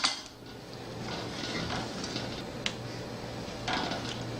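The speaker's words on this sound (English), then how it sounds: "you're going to want to vigorously hit your stirring utensil against the pan" A stirring utensil knocks against a pan of gummy mix a few times, giving scattered sharp metallic taps over a soft kitchen background.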